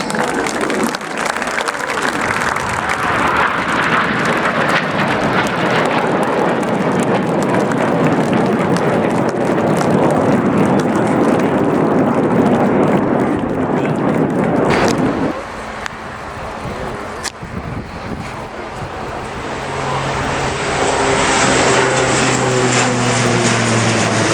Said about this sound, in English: We have 3 more of the historic aircraft taking part in this year's Air Tattoo.